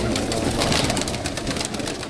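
Pigeons cooing on a rooftop, a close, steady mass of soft coos and wing rustle running unbroken throughout, with no talk.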